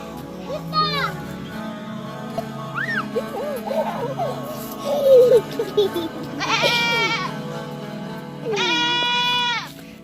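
Several loud, wavering goat bleats ring out, some long and quavering, with background voices murmuring between them.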